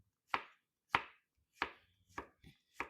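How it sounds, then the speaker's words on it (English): A knife chops through quartered zucchini on a cutting board in six sharp, evenly spaced strokes, each one a crisp, close thud. No one speaks. "I'm going to quarter them, and then we'll slice them up"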